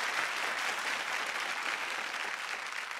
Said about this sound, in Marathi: सतीश सरांसाठी जोरदार टाळ्या व्हायला पाहिजेत.